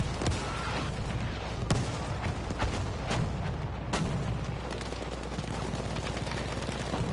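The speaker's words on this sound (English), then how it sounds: "Artillery strikes raining in." Artillery shells and rapid gunfire erupt across a video-game battlefield in a breakthrough match, booming blasts and crackling shots layered densely and continuously, loud and close throughout.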